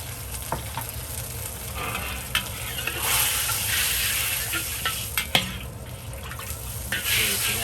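Sweet and sour sauce thickened with cornstarch being stirred in a pan, a steady low bubbling sizzle broken by scraping strokes and a few sharp utensil knocks.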